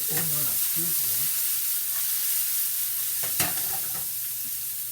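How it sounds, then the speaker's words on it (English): Steady, loud sizzling of onion frying in a pan fills the clip, with a few brief stirring scrapes and a short voice at the start. "So while the onion is sizzling"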